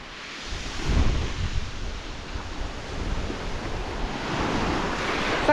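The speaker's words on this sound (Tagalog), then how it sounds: "Malakas na yung alon." Strong sea waves rolling and crashing near the shore while wind buffets the microphone, a continuous roaring wash that swells around the first second and again near the end, with no voices.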